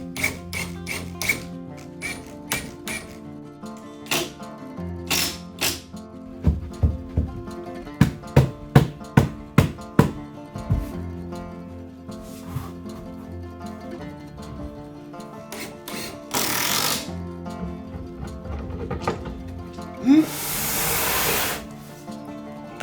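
Shoe cabinet boards screwed together during assembly of a built-in entrance cabinet. Scattered sharp taps and clicks give way to two longer bursts of hissing driver noise over a steady background.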